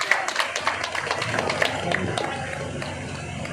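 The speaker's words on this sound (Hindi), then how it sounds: "जोरदार तालियां होनी चाहिए सर के लिए।" Audience applause at a Suheldev Bharatiya Samaj Party meeting in Thane district, a dense crowd of hand claps with sharp individual claps near the start that blends into a steady, moderately distant wash.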